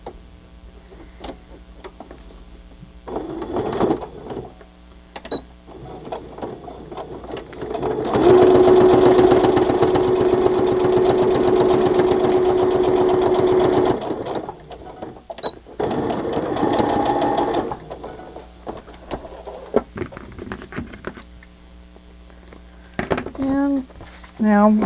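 A sewing machine stitches pockets in loud bursts of rapid, motor-driven needle chatter, separated by quieter pauses and small handling clicks.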